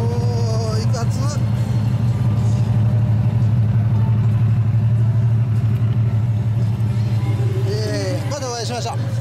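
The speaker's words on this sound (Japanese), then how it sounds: "エンジン音聞かせてもらえますか？" A Honda Goldwing F6C 1800 early-model trike with a one-off custom exhaust idles with a loud, steady low rumble throughout, close by, while people talk over it.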